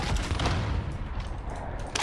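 Rapid automatic gunfire crackles in the video game Call of Duty Warzone, a short burst of overlapping shots with a booming low end, fairly close and dense throughout.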